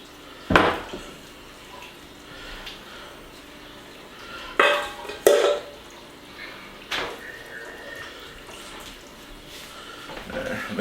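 Utensil scraping and lifting through noodles in a chicken tetrazzini casserole dish, with a few sharp clanks and scrapes against the dish between quieter stretches, close by.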